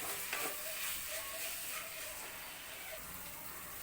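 Tomatoes sautéing in a pan for mutton curry: a soft, even hiss of frying with faint stirring scrapes, quiet and continuous throughout.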